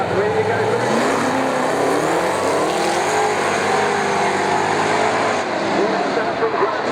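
Super saloon race cars launch from the start at Waikaraka Park, engines roaring and revving loudly in a dense, continuous blare as the pack accelerates away, with a commentator talking over the noise.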